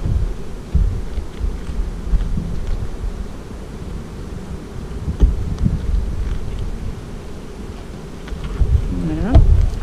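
Honeybee swarm buzzing steadily and close while brood frames are moved from a nucleus box into a hive in spring, a dense low hum with occasional knocks and handling thumps and no talk.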